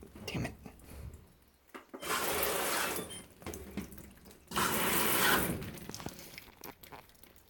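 Water gushes into a GE top-load washing machine filling for a warm-wash delicate cycle, coming in two strong rushing bursts between quieter clunks and rustling.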